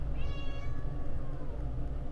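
A small female cat lets out one drawn-out, wavering meow, close and clear, over a constant low rumbling background hum.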